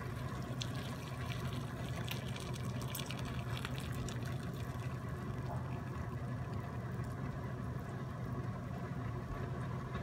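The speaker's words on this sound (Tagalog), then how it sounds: "Lalagyan na natin siya ng tubig ngayon." Water poured into a cooking pot of ginger and fish sauce for chicken tinola, a steady rushing, gurgling stream heard close and continuous for about ten seconds with no talking.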